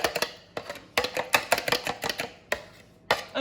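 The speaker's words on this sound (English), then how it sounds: "what we're going to do with the egg and milk is we're just going to whisk it" Egg and milk custard mixture for mini quiches is whisked briskly in a bowl. Close, rapid clicking taps and swishes come in uneven bursts with brief pauses.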